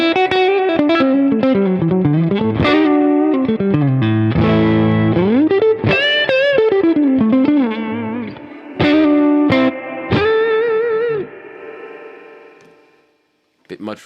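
Electric guitar played through a Peavey Bandit 112 amp in warm mode, ringing chords and sustained notes with a chorus-like shimmer, light distortion and lingering reverb, fading out at the end.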